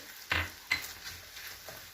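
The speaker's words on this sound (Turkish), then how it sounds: "Şimdi birazcık da salçamızla karıştırıyoruz." Fried ground meat and onions mixed with tomato paste are stirred in a pan: two sharp scraping strokes near the start, then softer stirring over a faint, quiet sizzle.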